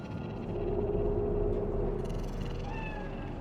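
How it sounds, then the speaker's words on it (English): A cat in Night City in the game Cyberpunk meows steadily and clearly over a low ambient rumble, a single drawn-out call, close and prominent. "Do you see it? The cat?"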